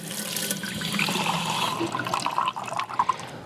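Water running from a tap into a container for pizza dough in a home kitchen, a steady rushing pour that turns splashier and more irregular toward the end.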